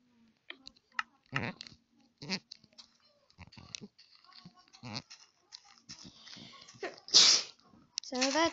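A single sharp sneeze bursts out near the end, among quiet scattered speech, clicks and mouth noises in an otherwise calm setting.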